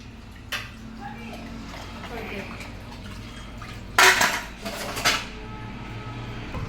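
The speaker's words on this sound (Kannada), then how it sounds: "ಇಲ್ಲಿ ನನ್ನ ಸೊಸೆ ಪಾತ್ರೆ ತೊಳಿತಾ ಇದ್ದಾಳೆ" Dishes being washed and pots scrubbed by hand in a home kitchen, with soft background clatter and then a few sharp, loud clanks of metal pots and utensils near the end, with voices talking throughout.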